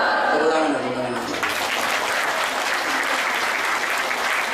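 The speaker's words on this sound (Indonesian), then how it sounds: "Tepuk tangan" Audience at a sholawat religious gathering in Hong Kong breaks into sustained applause, loud and dense, after a stretch of a voice speaking over music.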